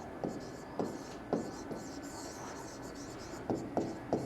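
A pen writes notes during a civil engineering lesson on soil properties, with short scratchy strokes arriving in small clusters, faint and close against quiet room noise.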